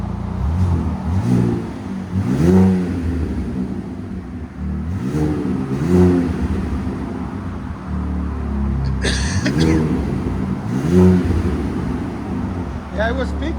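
A 2025 RAM RHO with a 3.0L twin turbo inline-six and Magnaflow SPEQ cat-back exhaust revs repeatedly, each rise a deep rumbling swell that climbs and falls back to idle, up close and loud, with people talking briefly between revs.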